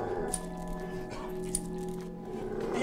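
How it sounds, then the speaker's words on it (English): A dog gives a couple of brief yips and whimpers at the Blue Balloon Café, fairly faint under a steady layer of tonal background music. "Oh, hey, a dog."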